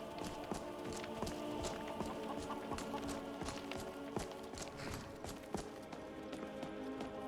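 A horse in the Skyrim video game clip-clops along at a steady walking rhythm, its hoofbeats tapping quietly under a soft background of ambient game music.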